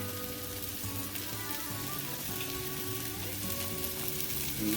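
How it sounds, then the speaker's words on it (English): Minced garlic frying with tender onion in a pan, a soft, steady crackling sizzle throughout, fairly quiet and close, with no talking. "We're going to add our minced garlic to the pan."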